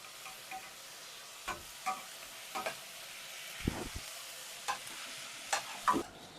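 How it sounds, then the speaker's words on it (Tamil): Onions and tomatoes frying in a pan, a faint steady sizzle broken by a handful of short scraping stirs of a spoon against the pan, heard close with no voices. "அப்போ நாங்கள் தக்காளி வெட்டி வச்ச 2 தக்காளி ஆட் பண்ணுறோம்."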